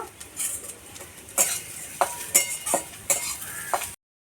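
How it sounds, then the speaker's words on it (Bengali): Onion, ginger and garlic frying lightly in a pan, a soft sizzle under several sharp clinks and scrapes of a utensil stirring against the metal, spaced about half a second apart, no talking. "পেঁয়াজ, আদা, রসুন সব আমি হালকা করে এটা ভেজে নিলাম।"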